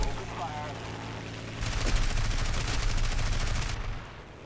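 Rapid machine-gun fire in War Thunder aircraft combat, a loud sustained burst of fast rattling shots over engine drone that cuts off abruptly, with a voice talking in the background.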